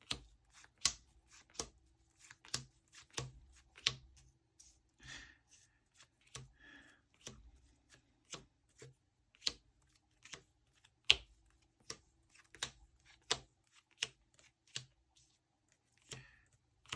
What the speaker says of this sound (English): this is power shuffling